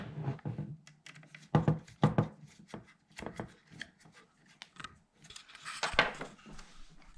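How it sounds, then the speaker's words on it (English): A cutting blade is fitted into a Sailrite cordless hot knife and its two set screws are tightened, giving scattered small metallic clicks, taps and a brief scrape, close and fairly quiet. "You slide that in after you loosen these two set screws and tighten it up."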